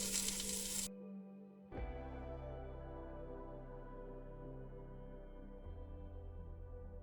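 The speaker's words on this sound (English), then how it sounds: "Really do sear the sides of each one of the lamb shanks." Lamb shanks sear in a pan with a soft sizzle that drops out briefly after a sharp start, then settles into a quieter hiss layered with a low steady hum, no talking.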